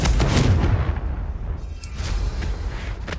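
A Confringo fire spell blast from the Hogwarts Legacy video game, a loud booming burst up front that rolls into a sustained rumbling crackle and fades gradually over a few seconds.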